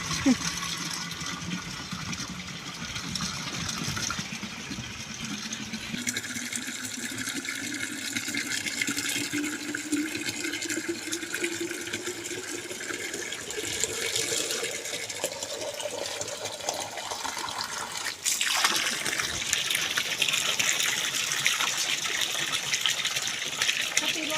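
Water gushes into a tank on a farm during mango-picking season, its steady rushing tone rising gradually in pitch as it fills, then giving way to a brighter, louder splash near the end.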